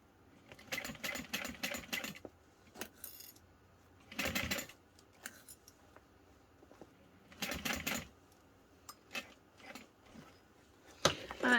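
Domestic sewing machine stitching a Denver backpack from Swoon Patterns, several short runs of rapid rhythmic needle chatter separated by pauses, close and moderately loud.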